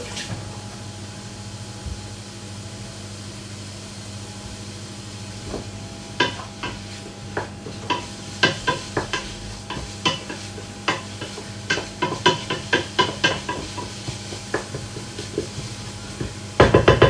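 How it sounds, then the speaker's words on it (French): Finely chopped leeks and shallots frying in a pan, a soft sizzle at first, then a busy run of quick clicking stirs and scrapes that grows louder toward the end. "Je mets les poireaux et les échalotes coupées finement."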